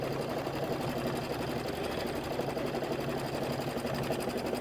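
Sewing machine stitching steadily through a quilted table topper, a continuous close rhythmic hum and needle chatter with no pauses.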